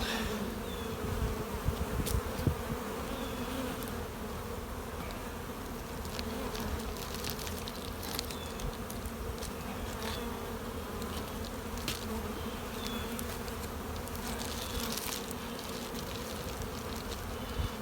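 Honey bees droning in a steady, dense buzz around an open beehive during a spring brood-chamber check, with occasional louder individual bees passing close by.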